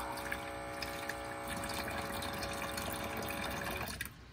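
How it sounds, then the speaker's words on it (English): Water runs steadily from a hose or tap, rinsing soap off inside a van, with a continuous close gushing splash and a faint pump-like whine, easing off abruptly near the end. "I'm going to rinse it off."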